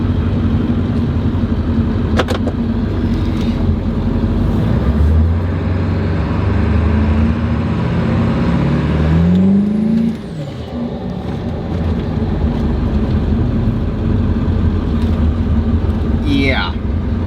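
A Ford Powerstroke diesel truck engine rises in pitch as it accelerates in a quick sprint. The drone is loud and close, climbs steadily, then eases off. Cabin noise runs throughout and there is a brief high squeal near the end.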